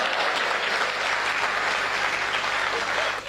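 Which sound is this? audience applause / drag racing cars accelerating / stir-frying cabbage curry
audience applause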